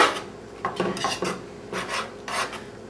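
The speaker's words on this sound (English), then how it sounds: "we're going to take the butter right here and just stir it in like this" A utensil scrapes and clinks against a pan while butter is stirred into a chicken Marsala sauce, giving a series of close, rasping strokes in an uneven rhythm with no talk.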